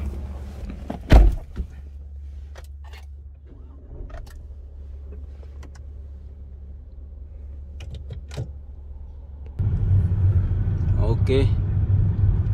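A car driving through the wide plain of Padang Arafah, a low steady engine and road rumble, with a thump of a door early on and louder road noise near the end, while someone talks.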